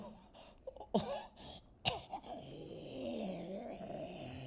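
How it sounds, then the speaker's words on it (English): A couple of rough coughs and throat sounds burst out close by, followed by a low, droning groan. "He began to cough"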